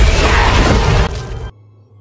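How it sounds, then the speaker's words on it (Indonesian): Pistol shot shattering glass in a room during an action film, a loud crashing burst of breaking glass that rings on for about a second and a half, then cuts to a quiet low hum. "Jack pun segera menyerang Duncan hingga pistol tersebut tidak sengaja menembak kaca di ruangan itu."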